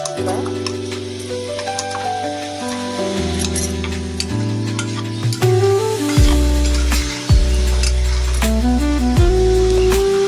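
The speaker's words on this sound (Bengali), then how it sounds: "লাল করবো রসুনটাকে আর একটু লাল করবো" Garlic frying in oil in a pan, a steady sizzle with scattered clinks and stirring, partly under a louder tonal background that shifts throughout.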